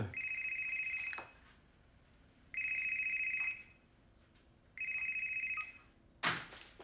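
An electronic telephone ring sounds three times in bursts of about a second, evenly spaced, with a faint background hum between rings.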